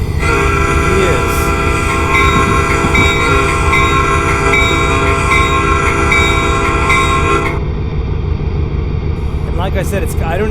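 F40 diesel locomotive running in Train Simulator on a Salt Lake City route, a loud sustained multi-tone horn blast over rumbling engine and rail noise, cutting off near the end as the running noise continues.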